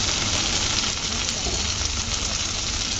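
Coriander and mint leaves frying in a pan on a stove, a steady, dense, close sizzle holding constant throughout with no pauses.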